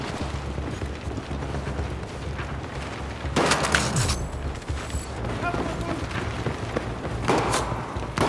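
Bursts of gunfire in Battlefield 4 on Xbox Series S, short broadband volleys around the middle and near the end over a steady low game rumble, with talk in the background.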